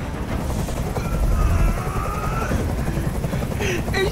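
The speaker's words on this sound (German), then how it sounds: "Dieser Helikopter soll verschwinden!" A helicopter in the video game Detroit: Become Human drones with a loud, steady rotor rumble, joined by a few brief higher tones and bursts.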